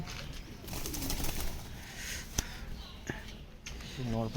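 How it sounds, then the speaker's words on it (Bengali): Pigeons coo low and steadily in a crowded loft, with a few faint wing sounds. People talk close by throughout. "প্রচুর পায়রা হয়ে গেছে পুরো বিল্ডিং সেকশনটা পুরো ভরে গেছে"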